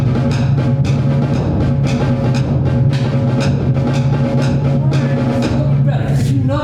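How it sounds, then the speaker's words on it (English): A seventh-grade middle school concert band plays a sustained passage, with an unmuffled bass drum hitting steady quarter-note beats that ring out over the held chords. "Did you not muffle the bass drum at all on these quarter notes?"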